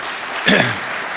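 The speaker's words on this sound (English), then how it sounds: "I think we all ought to give Carl a big round of applause for a stellar year" Audience applause at a regional economic development group's annual meeting: a steady wash of clapping across the short span, with a brief louder swell near the middle.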